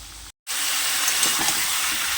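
Potatoes fry in a pan with a steady, close sizzling hiss, interrupted for a split second near the start and then continuing evenly.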